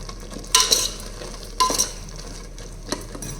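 Pulao cooks in a pot and gets stirred: two or three short scraping stirs, each with a bright metallic clink, ring out over a faint, steady sizzle, with no voices.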